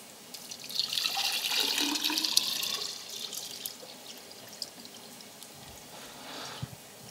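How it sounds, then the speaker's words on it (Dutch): Water is poured onto a small polymer concrete test piece, a close splashing trickle that builds and rushes for a few seconds, then thins into scattered drips and small taps. "Nu heb ik ook dat proefstukje met die polymeren en kan ik daar ook water op gaan gieten."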